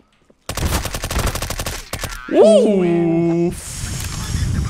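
Rapid bursts of MP5 submachine gun fire in a first-person shooter game, loud and close, with a dense rattling stream of shots, a short break, then sustained firing under layered game effects.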